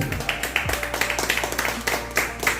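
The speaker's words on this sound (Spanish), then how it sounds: "A su nombre, den un fuerte aplauso a Jesucristo, por favor." Congregation at a Christian baptism service clapping in a fast, steady rhythm, loud and close, a dense run of sharp claps filling the whole stretch.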